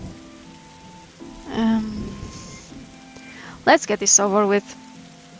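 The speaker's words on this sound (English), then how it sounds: "And it's still raining." Soft, steady rain patters throughout a scene in the game The Darkside Detective, heard faintly beneath speaking voices.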